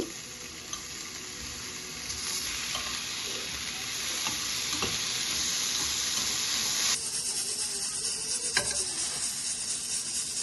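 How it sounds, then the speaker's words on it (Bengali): Eggplant slices fry in a pan with a steady, close sizzle that holds throughout, with occasional clinks of stirring and turning the slices. "বেগুনগুলো যে এক পাশ ভাজা হয়ে গেছে, এখন অন্য পাশগুলো ভেজে নিব"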